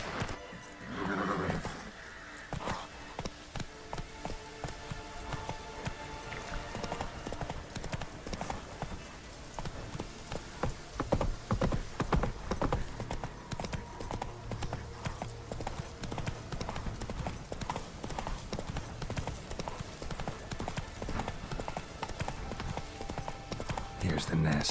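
Roach, the horse in The Witcher 3, gallops in a steady, close clip-clop of hooves with a whinny early on, while people talk over the game.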